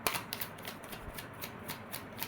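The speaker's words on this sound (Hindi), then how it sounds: "I will only take one shuffle." A deck of tarot cards being shuffled by hand, a quick riffling flutter of soft, close papery slaps in an irregular rhythm, with no talking.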